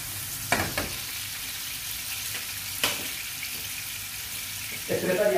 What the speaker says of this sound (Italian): Lasciamo dorare la nostra cipolla per circa 30 secondi